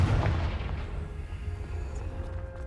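Confringo spell blast in Hogwarts Legacy, a heavy low boom at the start decaying into a rumbling tail, with no voices.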